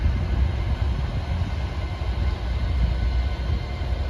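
An empty Avanti train moves through Crewe station with a steady, loud, low rumble and rail noise that holds constant throughout, heard at close range with no talk.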